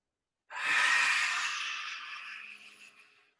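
A single big, forceful inhale, a deep power-stroke breath drawn in qigong practice, starts abruptly after a short silence, peaks quickly and then tapers off slowly, close and breathy, with no talking.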